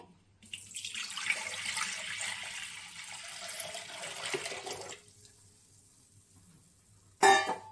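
Water runs from a tap and splashes into a sink for several seconds, then shuts off, followed by a brief clatter of a pot.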